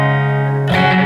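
Guitar run through a Strymon BigSky reverb preset without modulation: a sustained, steady-pitched chord rings smoothly, then a fresh strum bursts in near the end, brief and loud.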